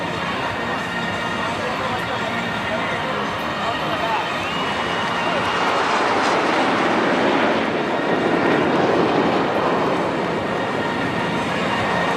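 Indian Air Force aircraft in formation at a large air show on a beach, a continuous loud broadband roar that swells slightly toward the middle.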